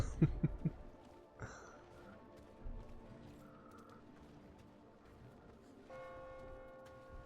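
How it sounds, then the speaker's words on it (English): Church bell ringing in a medieval hardcore video game, a few faint tolls with lingering resonance over quiet background ticking and low game ambience, without voices. "Oh, I can hear the church bell."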